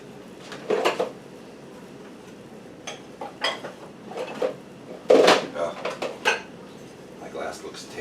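Glass clinking and knocking against dishes as it is pulled from a kitchen cupboard, several short sharp clatters spread over a few seconds, fairly close and moderate in loudness, with a person speaking in between.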